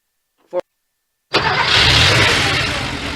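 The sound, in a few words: engine running on Castrol Edge oil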